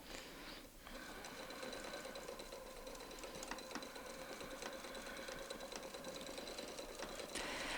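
A domestic sewing machine stitches quilt circles with a ruler foot against a template, its steady rapid needle chatter running continuously and close with brief pauses as the work is stopped and turned.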